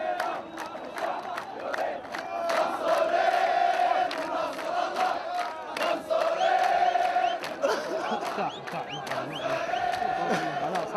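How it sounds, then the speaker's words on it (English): Protesters celebrate at the Pearl roundabout in Bahrain, a dense crowd roaring, chanting and ululating continuously, loud and close, with shouted voices rising in waves throughout. "There was nothing to stop the rush to the Pearl roundabout, and the crowd began celebrating."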